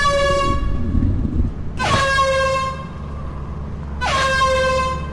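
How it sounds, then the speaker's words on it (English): Loud truck-style air horn blasts in the game Lethal Company: a long honk near the start, another around two seconds and a third near the end, each a sustained harmonic tone over a steady low rumble. "Four honks is a death sentence."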